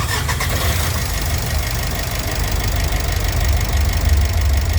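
A Mitsubishi L300 Euro 4 van engine cranks and catches, then settles into a loud, rough, knocking idle, heard up close and without any voices.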